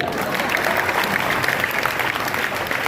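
An audience claps steadily, a dense even patter of applause filling the whole stretch.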